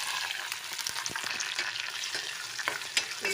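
Raw prawns drop into hot oil in a pan and fry with a steady, close sizzle and crackle, punctuated by scraping stirs, with no one talking.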